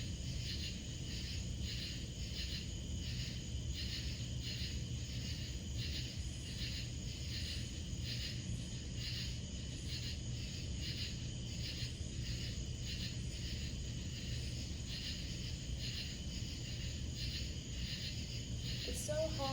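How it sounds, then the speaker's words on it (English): Crickets and other insects chirping outdoors at night: a dense, continuous high-pitched trill pulsing in steady waves over a quiet background, with faint low sounds beneath and a brief knock near the end. "there's so many bugs, so many crickets"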